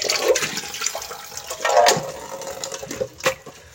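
Water splashes and pours over papaya leaves being rinsed clean in a basin, an irregular wet sloshing with a few louder surges, close by and with no talk.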